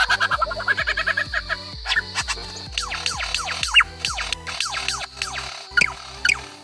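A lyrebird sings and mimics other sounds, loud and close: rapid runs of sharp electronic-like beeps and tones give way to sweeping whistled notes and chirps, alone without speech.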